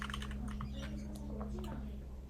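A computer keyboard typed on during a coding seminar, quick irregular clicks in a short burst, close and fairly clear, no voice over them.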